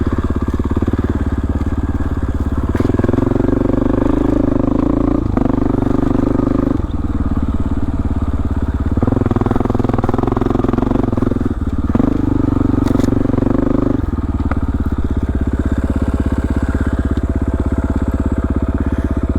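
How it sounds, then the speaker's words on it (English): A motorcycle engine drones loudly and continuously while riding a remote canyon trail in the Rocky Mountains, with the revs rising and falling and some rattling and scraping over rough ground. "My bike sounds kind of weird."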